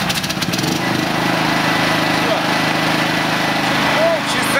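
A petrol generator engine runs steadily and loudly close by, making a constant droning rumble with a faint knock at the start, while someone talks over it.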